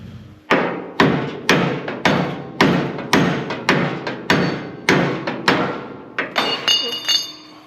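Repeated heavy hammer blows on a seized pulley of a combine's cleaning fan, about a dozen sharp metallic strikes in a steady rhythm, loud and close with a brief ringing clink after each hit, no talking.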